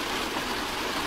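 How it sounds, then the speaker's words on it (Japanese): Rain falling in a video game set at a mysterious inn, a brief, steady wash of dense hiss with no distinct drops, heard alone at a constant level. "雨が降っているようだ。"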